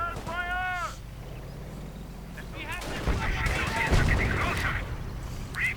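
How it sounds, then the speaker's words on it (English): German rockets hammering an enemy base in a World War II strategy game, with bursts of sharp explosions and rumbling impacts clustered together, mixed with crow-like screeching calls and a voice commentating over the battle. "we are seeing now Ironroman's base getting hammered by German rockets"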